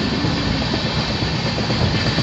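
Inside a near-empty coach of the Gandhidham–Tirunelveli train, a steady low roar of running wheels and carriage noise holds at an even, moderately loud level throughout, without speech.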